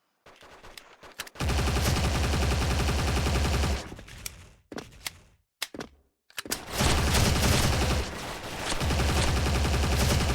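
G36C rifle fire in an online first-person shooter, heard as loud, dense automatic bursts. The bursts break off into short gaps and scattered single shots, then resume in a long sustained volley.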